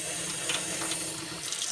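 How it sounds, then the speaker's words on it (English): Water runs steadily from a kitchen tap at low flow, a continuous hiss and splash with no one speaking. "I run the water a little bit"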